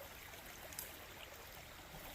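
Rainwater trickling into a small wetland, a faint, steady low babble of running water with no other sounds.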